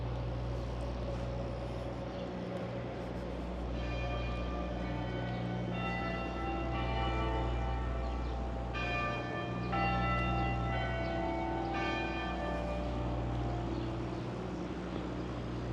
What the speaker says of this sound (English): And those are the bells from the Park Street Church.